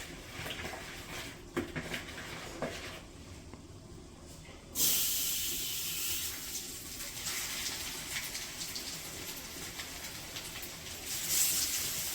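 Fish frying in hot oil in a village kitchen, a steady close sizzling hiss that jumps louder as more fish go into the pan, then keeps crackling evenly.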